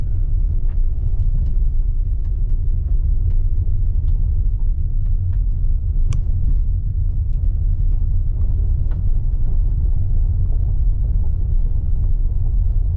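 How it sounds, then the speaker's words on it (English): A 2023 Kia Sorento X-Line S rolling over a gravel road in cold weather gives a steady, loud low rumble of tires and road noise throughout, with faint scattered crunches and no talking. "Obviously you feel some vibrations on the gravel road"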